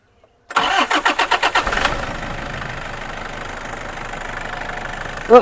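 A used car, a 2015 GX model, cranks over with a quick series of loud, rhythmic starter pulses, then catches and settles into a steady, close idle that runs on alone.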